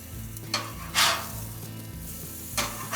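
Burgers sizzling on a Monument Grills Mesa II 415 BZ gas grill, a steady close frying hiss with a few brief scrape-like bursts from tools against the grate, under a low hum.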